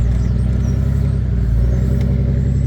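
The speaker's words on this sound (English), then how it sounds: "I think this truck just sounds so badass. I mean, I just love the way this thing sounds." A pickup truck engine revs loudly and steadily up close, a deep throaty rumble holding through the whole stretch with no talking.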